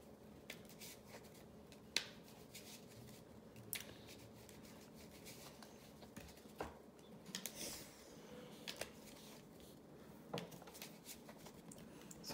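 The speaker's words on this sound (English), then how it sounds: "I'm shuffling the dummy deck right now." Cards from a dummy deck in a Mage Knight board game are shuffled by hand, soft papery riffles and scattered sharp snaps and taps at a quiet level, without speech.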